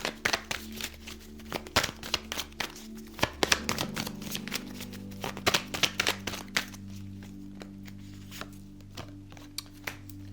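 Tarot cards being shuffled and drawn at a reading table, brisk riffling and tapping strokes in quick irregular clusters over a low steady hum, thinning out toward the end.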